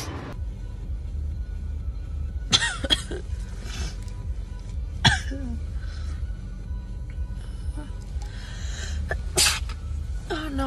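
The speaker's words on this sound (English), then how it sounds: "I'm gonna sneeze." A woman sneezes several times after a Covid-19 nasal swab test, with sharp, loud bursts spread across the stretch and a faint rumble underneath.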